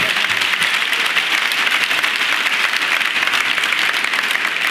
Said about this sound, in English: I think that deserves a round of applause for being there.